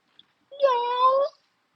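A single drawn-out meow, clear and close, rising slightly and then fading after a short tick of silence.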